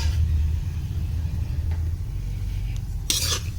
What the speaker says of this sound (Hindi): अब मिक्सी चलाती हूँ, लेकिन मिक्सी बहुत हल्के चलाते हैं